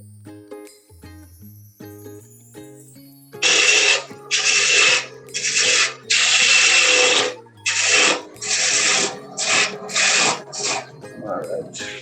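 A parting tool cuts into spinning wood on a lathe, loud hissing bursts of cutting starting partway through and repeating in uneven strokes, after a quieter opening with background music and talk.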